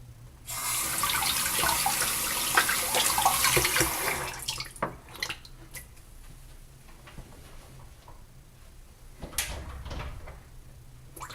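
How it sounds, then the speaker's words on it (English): Tap water pours into a sink for about four seconds as a hand is rinsed, a close, bright hiss that stops abruptly, followed by scattered clicks and knocks of items being handled. "Place the brush in my cup and rinse my hand real quick"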